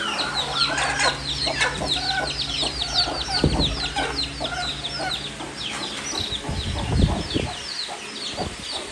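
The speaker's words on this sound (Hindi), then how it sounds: "अंदर चूजे शोर कर रहे हैं, तो उनको खोल देते हैं।" Poultry on a small farm, with dense high-pitched chirping and clucking from many chicks and hens close by, a steady noisy chorus throughout with a few low thumps and knocks underneath.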